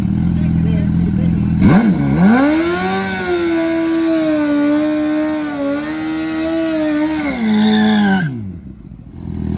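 A Suzuki Gixxer 1000 at a motorcycle drag strip roars loudly and close, its engine revving hard and holding a high, strained note for several seconds before cutting off abruptly into quiet.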